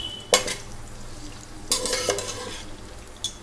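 Frying on low flame in a pan for sweet saffron zarda pulao, with two bursts of sizzling and stirring clatter and a softer scrape near the end, no voices.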